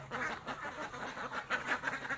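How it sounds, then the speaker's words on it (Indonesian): Muscovy ducks give short, raspy, close calls in a rapid irregular series at a farm, with no talk over them. "Entok."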